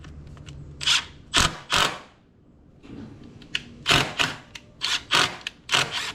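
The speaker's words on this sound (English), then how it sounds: "I like to go back in and out a couple times with these screws." Stainless screws being driven in and backed out during a boat transducer install, heard as several sharp, clustered mechanical clicks and brief whirring bursts close by, separated by short quiet gaps.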